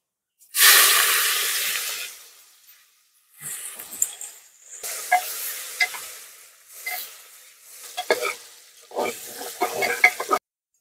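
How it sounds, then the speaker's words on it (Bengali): Chopped onion hits hot oil with bay leaf, dried chilli, cinnamon, cardamom, clove and cumin for mutton curry, bursting into a loud sizzle that fades, followed by intermittent stirring scrapes and crackles, no talk. "কেটে রাখা পেঁয়াজ কুচি দিয়ে দেবো।"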